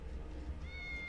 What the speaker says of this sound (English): but I'm sure that's a cat meowing